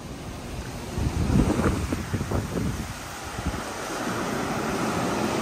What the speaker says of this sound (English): That sounds like really strong wind right there.